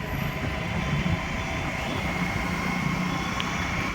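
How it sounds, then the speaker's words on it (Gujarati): A train rumbles past in Gandhinagar as a steady, continuous low roar with a rattling undertone that holds at an even level throughout, with no voices present. "રેલગાડી જાય છે"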